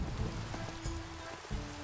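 Rain pours steadily in a Minecraft thunderstorm, a constant close hiss with a brief burst of thunder or a lightning crack near the middle.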